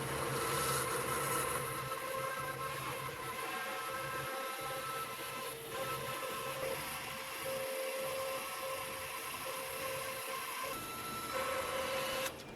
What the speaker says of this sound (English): The jointer, I am just preparing it for resaw.